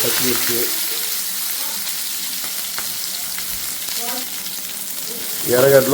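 Onions and green chilies frying in hot oil with mustard seeds, a steady, close sizzle with occasional stirring, while a person talks over it.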